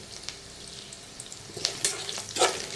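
Brinjal curry ingredients frying in a pan, with soft sizzling crackles and a few sharper pops and stirring scrapes toward the end, fairly quiet and with no voices.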